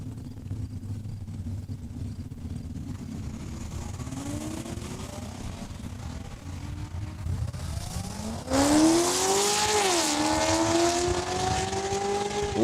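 Drag race cars, one of them a Mustang, launching down the strip at Saskatchewan International Raceway: a low engine drone rises into loud revving and whining pitch sweeps, and a sharp surge near the end.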